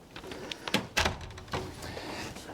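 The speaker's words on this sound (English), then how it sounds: "close the door" A room door swung shut as someone leaves, heard as a few close thuds and knocks with one firm bang near the middle and softer handling clatter around it.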